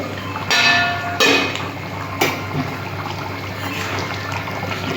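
Metal lid being placed on and lifted off a cooking pot of mutton and papaya, with a few sharp clanks over a steady background of bubbling.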